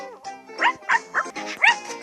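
A cartoonish dog in a pet-feeding video game gives a quick run of about five yappy barks and yips, fairly close and loud, layered over a tonal game music bed.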